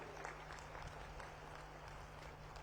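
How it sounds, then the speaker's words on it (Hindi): A crowd claps at a political speech by Amit Shah in Bastar, a faint, distant and steady patter of applause over a low hum from a large outdoor gathering. "एक बार हाथ उठाकर जोर से ताली बजाइए भाइयों बहनों"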